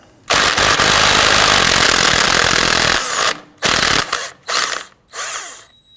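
Power tool loosening and removing the axle nut on a Volvo XC60 with a 13mm socket, one long loud whirring burst followed by several shorter bursts with quiet gaps between them, close up and with no talking.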